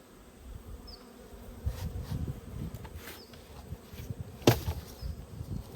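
Honey bees buzzing around hives during winter preparation, a continuous close hum with individual bees passing near, over occasional handling knocks and clatter.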